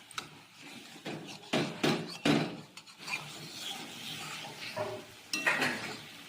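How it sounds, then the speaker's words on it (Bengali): Chicken meat for kosha is stirred and scraped in a pan, with rough scraping strokes and a soft sizzle coming in irregular bursts, close and moderately loud. "দেখো মাংসটা কষানো হচ্ছে"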